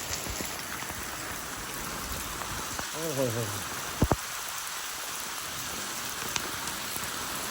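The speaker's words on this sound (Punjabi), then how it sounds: "ਕਿੰਨੀ ਤੇਜ਼ ਤੇਜ਼ ਗਿਰ ਰਿਹਾ ਮੀਂਹ" Heavy rain pours outdoors in a steady, dense hiss across the whole stretch, with a brief voice exclaiming partway through and a couple of sharp close knocks.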